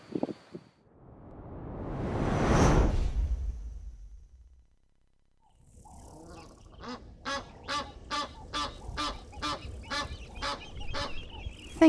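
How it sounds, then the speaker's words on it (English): An Egyptian goose honks in a rapid series of about a dozen loud, evenly spaced calls close by, after a gusty rush of wind that fades into a short lull. "I have a very noisy Egyptian goose"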